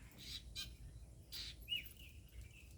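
Several short, high chirping calls from a bird near its nest on a pumpkin farm, scattered irregularly over a low background rumble.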